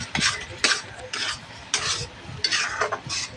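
A large chopped tomato goes into ginger frying in a pan, bursting into loud hissing sizzles broken by repeated stirring scrapes, close and busy with no talking.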